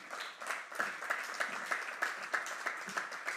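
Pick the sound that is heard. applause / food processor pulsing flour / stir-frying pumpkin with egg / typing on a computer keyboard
applause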